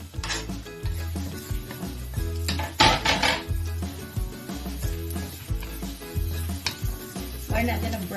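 Olive oil and garlic sautéing in a pan, a steady sizzle with repeated metal clinks and stirring scrapes over a low rhythmic thump that runs throughout, close and fairly loud.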